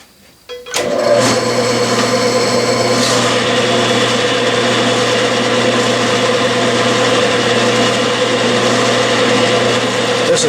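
Metal lathe spinning at 600 RPM while a vertical shear tool takes a fine 0.002-inch-per-revolution cut, a steady loud machine drone with constant harmonic hum throughout after a brief start-up.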